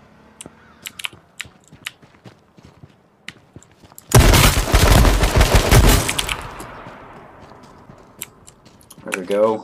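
Gunfire in the online shooter H1Z1: a few sharp single cracks early on, then a dense two-second burst of rapid shots that fades into a ringing tail, with voices talking around it.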